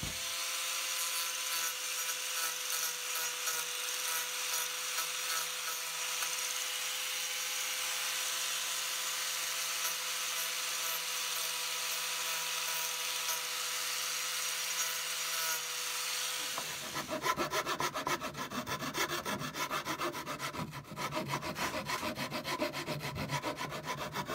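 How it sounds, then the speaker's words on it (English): Steady, rhythmic rubbing of sandpaper on a wooden longhorn steer carving continues throughout, faint and close, with the texture turning rougher and busier toward the end. "I think I can refine it doing sanding."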